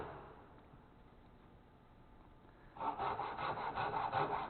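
A hand saw cuts through wood held in a vise, starting with faint quiet strokes before breaking into a loud, steady rhythm of close rasping back-and-forth strokes.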